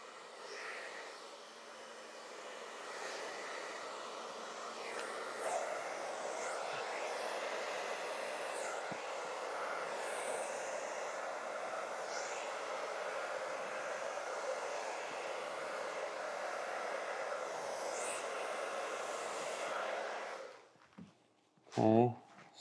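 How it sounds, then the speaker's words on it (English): A hair dryer with its nozzle capped blows in a steady, fairly quiet whooshing hum for about twenty seconds before switching off, followed by a brief clatter; it is used for alcohol ink painting on a 36x48 canvas. "So I'm capping the top of my blow dryer so I can kind of control it"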